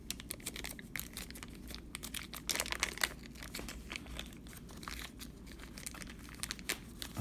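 A tight plastic bag holding three packs of 1988 baseball cards crinkles and rustles close by, with continuous quiet crackling and small taps as it is handled.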